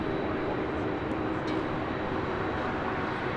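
Steady broadband roar of an American Airlines Boeing 777 taxiing across runway 25 Right at LAX, a continuous engine rumble with no breaks heard from a distance.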